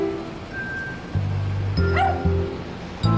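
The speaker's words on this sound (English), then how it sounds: "And then of course Coco barks, right" A dog gives a few short yips and barks, with a whimpering tone, fairly close and loud against low background noise.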